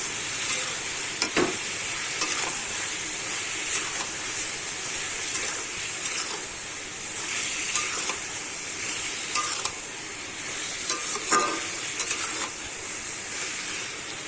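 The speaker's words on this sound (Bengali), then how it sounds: "দিয়ে আমি ভালোভাবে নেড়ে নেব।" Ridge gourd frying with salt and turmeric in a pan, stirred repeatedly with scraping strokes over a continuous close sizzle, steady throughout with no talking.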